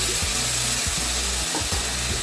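Onion and garlic for masoor dal sizzle steadily in hot oil, a dense continuous hiss with faint stirring scrapes and no talking.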